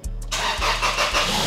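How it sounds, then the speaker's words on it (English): A car engine cranks briefly and catches after a catalytic converter replacement, then settles into a close, steady idle. "now I'm gonna turn it on and see how it sounds."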